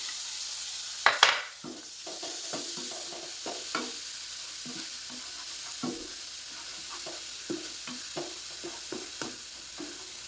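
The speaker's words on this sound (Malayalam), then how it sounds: "കൂടെ ചേർത്തിട്ട് നമുക്ക് നന്നായിട്ട് ഇളക്കി യോജിപ്പിക്കാം" An okra curry with garam masala is stirred in a hot pan. After a loud initial sizzle burst come a series of close, regular spatula scrapes over a continuous soft frying hiss.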